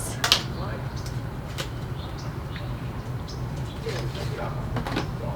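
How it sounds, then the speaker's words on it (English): A Melt Cosmetics Recently Deceased eyeshadow palette from a Beetlejuice PR box is opened: a sharp click near the start, then faint handling taps over a steady low room hum. "So this is the Recently Deceased palette, and I'm going to open it."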